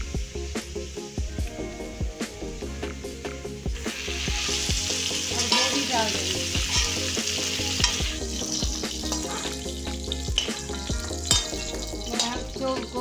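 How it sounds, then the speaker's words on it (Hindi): Vegetables such as cauliflower and pumpkin fry in hot oil for a desi mixed-veg dish, a steady loud sizzle with frequent scraping stirs and clanks of the spoon against the pan throughout. "गोभी की फ्राई कर लिया, और मैं सीताफल की फ्राई कर रही हूँ"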